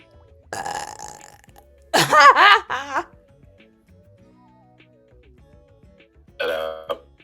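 Loud, close burps come in a few separate bursts, one long croaking belch in the middle and shorter ones before and after, with quiet gaps in between and no talk.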